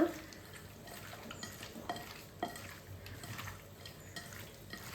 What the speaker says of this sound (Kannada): ಇದನ್ನು ನಾವು ಕೈಯಲ್ಲೇ ಚೆನ್ನಾಗಿ ಮ್ಯಾರಿನೇಷನ್ ಮಾಡಿ ಇಡೋಣ